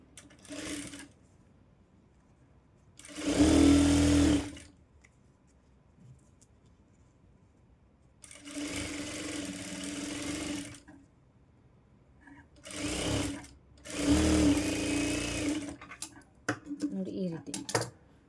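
A sewing machine stitching a child's blouse runs in three or four short bursts of steady mechanical whirring, separated by pauses where someone talks.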